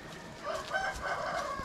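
Chickens and a rooster at feeding time on a farm, a rooster crowing clearly over clucking hens, close and fairly loud for under two seconds with no talk.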